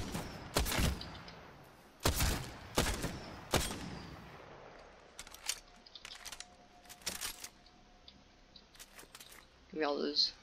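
Gunfire from a gun in the video game Apex Legends, several loud sharp shots in quick pairs early on, then lighter clicks and mechanical rattles, with a voice talking near the end.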